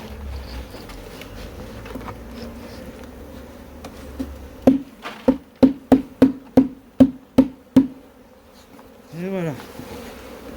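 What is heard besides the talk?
honeybee swarm buzzing around hive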